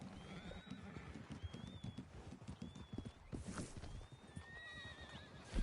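Horses in the video game Red Dead Redemption 2 Online give several rising whinnies over a steady patter of clip-clopping hooves, moderately close, with no talk.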